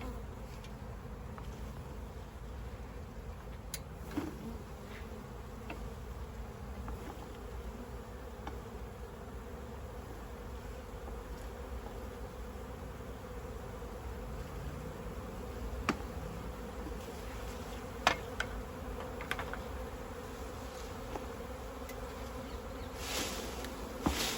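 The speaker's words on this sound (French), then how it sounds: "Forcément, tu as des abeilles qui vont repartir." A dense, steady buzzing of a honeybee swarm being captured fills the whole stretch, continuous and close, with occasional faint taps and knocks underneath.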